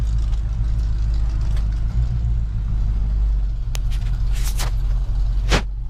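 A truck carrying banners drives around Westwood Village, its engine giving a loud, steady low rumble from inside the cab, with a couple of brief rattles and a sharp tick near the end.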